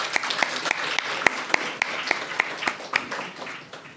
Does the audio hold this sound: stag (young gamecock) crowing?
no